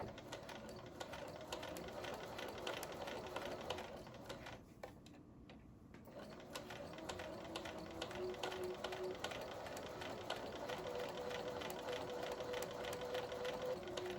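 A sewing machine stitches quilt block seams, a quiet continuous rapid mechanical whir with a brief pause midway before running again.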